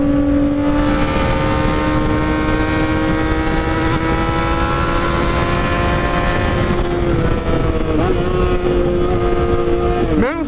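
A Honda CBR 600RR sport motorcycle rides steadily, its engine note holding a loud, continuous tone with rising pitch swells near the end as the throttle opens.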